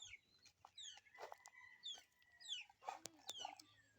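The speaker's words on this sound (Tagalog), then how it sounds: "Daming manok." Chickens cluck and squawk repeatedly nearby, a busy flock calling over one another outdoors on a farm, with a steady low hum beneath.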